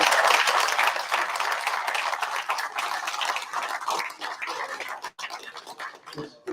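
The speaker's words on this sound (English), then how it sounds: "Let's give them a big round of applause." Applause from a crowd for three competitors at a briar pipe-smoking contest, loud dense clapping that thins and grows patchy, with a few sharp individual claps and brief gaps near the end.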